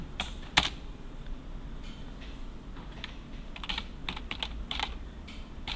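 Computer keyboard keys clicking in scattered taps and short bursts, including presses of the Ctrl key, quiet and close over a faint background hum with no voices.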